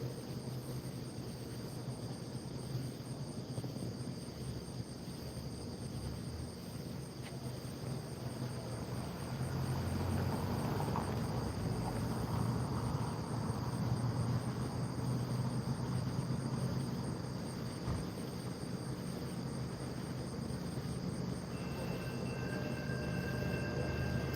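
A Norfolk Southern or CSX freight train passes at night, a low steady rumble that swells midway and holds with a faint high ringing tone above it.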